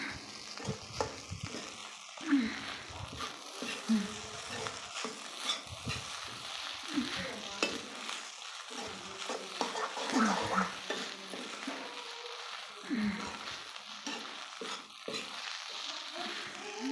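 Raw banana and egg rice fries in oil in a pan, a continuous close sizzle with frequent stirring scrapes and clinks of a utensil, steady throughout and without speech.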